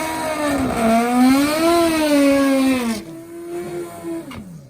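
A drag racing motorcycle, a nitro Harley or turbo Hayabusa, runs down the strip and drifts toward the center line: a loud, wailing engine note rises and dips, then cuts off sharply before a fainter, fading drone.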